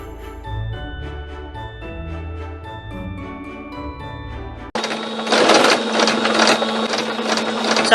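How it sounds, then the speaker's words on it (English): A sewing machine stitches a strapless shirt. Its steady, loud mechanical whir starts abruptly partway through, after a stretch of tonal music. "so you guys don't have to sit here and listen to this machine run"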